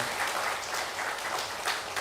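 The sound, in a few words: congregation applause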